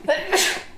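A single loud, close sneeze with a sharp intake of breath followed by an explosive burst.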